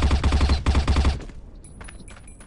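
Rapid automatic gunfire in the first-person shooter game Crossfire: Legends, a loud fast rhythmic burst lasting about a second, then quieter scattered game effects.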